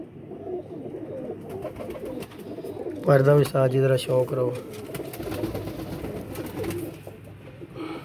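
Pigeons coo in short throaty pulses, with one clear burst of cooing in the middle, while someone talks over them close by.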